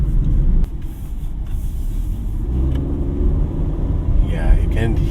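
A 2025 Suzuki Dzire Hybrid's three-cylinder engine drones as a low, steady rumble inside the cabin while driving, with a voice talking over it.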